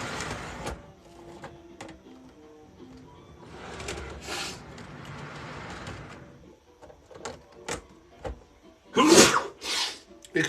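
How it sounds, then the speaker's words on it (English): Near the end a person sneezes loudly, close up, in a couple of sharp bursts after earlier mechanical whirring and clicking from a model train layout. "Oh, man, I got to sneeze."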